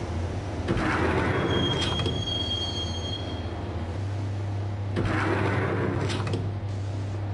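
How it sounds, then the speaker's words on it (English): A subway train ride in the video game Max Payne: a constant low rumble of rolling carriages with bursts of high-pitched wheel squeal. The sound stays loud and steady throughout, with no voices. "the train doors had already shut behind me, and I was in for the ride"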